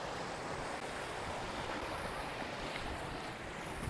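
Steady broadband rush of fresh mountain water pouring at Daranak Falls in Tanay, Rizal, a constant wash with no breaks, close and fairly loud, with no voices over it.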